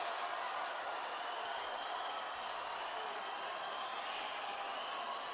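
Crowd at a swimming finals standing and cheering, a dense, steady roar of distant voices and applause filling the whole stretch without a break.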